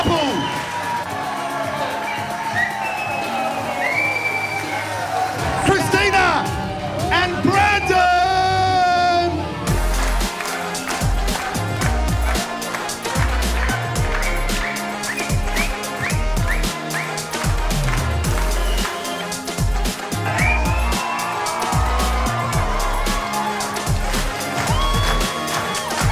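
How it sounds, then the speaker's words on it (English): Wedding guests applaud and cheer for the newly married couple, a sustained burst of crowd clapping and cheers that runs loud under music with voices mixed in. "can we please give a big round of applause"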